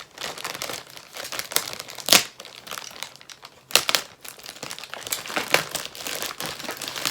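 Crumpled packing paper crinkles and rustles continuously as a parcel is unwrapped by hand, close and fairly loud, with sharp bursts of crackling among the steady rustle.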